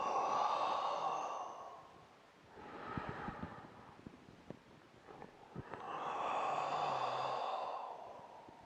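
Slow, breathy exhales during a qigong breathing exercise, two long soft airy breaths near the microphone separated by a quiet pause with faint rustling, and no talk.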